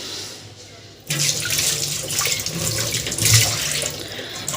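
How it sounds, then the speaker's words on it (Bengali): Rice being washed by hand under a running kitchen tap, a steady close splashing gush of water into a sink that starts abruptly after a second and continues unbroken. "আর তার ভাতটা ধুয়ে নিই"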